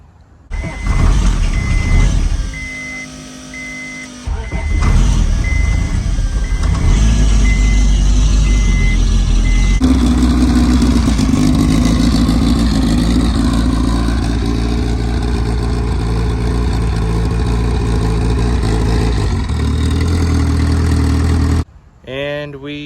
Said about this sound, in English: I show you that I started the car off camera